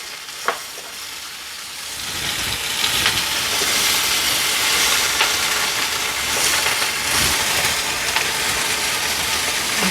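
Ingredients sautéing in a pan while making pizza sauce give a steady, close sizzle and hiss, with a few stirring scrapes and a sharp tap near the start, and no talking.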